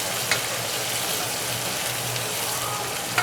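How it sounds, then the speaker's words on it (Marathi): Vertically sliced onions fry in hot oil with a steady, dense sizzle that runs unbroken and fairly close, with no talking over it. "आता कांदा छान मस्त तेलामध्ये फ्राय होऊ द्यायचा आहे."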